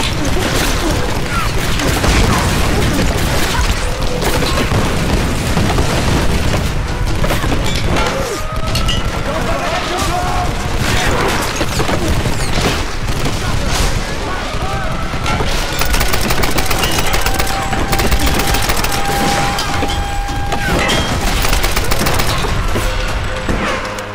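Dense, continuous gunfire in the Tomb Raider video game, loud rapid automatic bursts and crashing impacts filling the whole stretch, with shouted voices mixed into the chaos.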